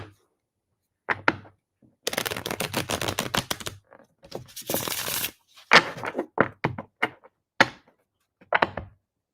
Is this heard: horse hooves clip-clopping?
no